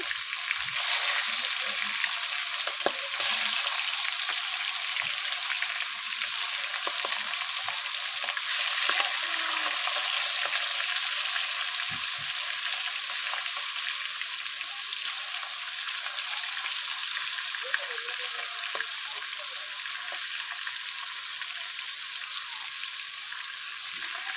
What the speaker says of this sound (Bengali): কড়া গরম হয়ে গিয়েছে দিয়ে দেবো তেল এখন মাছের মাথাটা দিয়ে দিলাম মাছগুলো দিয়ে দিচ্ছি